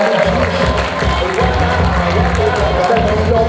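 An audience applauds and cheers for a magician being introduced on stage at a Ring 29 Feed the Vets show, a steady loud wash of clapping and whoops with no gaps.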